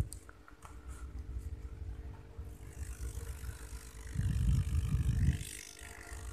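An aquarium aerator air pump gives a steady low hum with a constant bubbling, airy rumble, swelling louder for a moment before easing back, with no voices.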